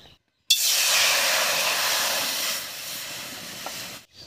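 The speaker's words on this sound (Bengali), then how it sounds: "এবার কড়াইতে জল দেব।" Water hitting a hot wok with spices just fried in it, sending up a loud burst of steady hissing steam that fades slowly over a few seconds, alone with no talk.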